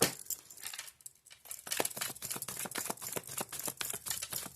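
Tarot cards are shuffled by hand up close, a rapid run of crisp flicking clicks and papery slaps that come in dense bursts with a short lull, with no voices.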